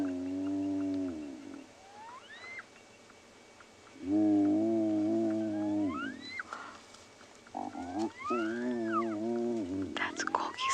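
A spotted hyena cub on a South African safari gives several drawn-out, wavering calls with rising whoops, the calls in separate bursts and fairly close, with faint background noise between them.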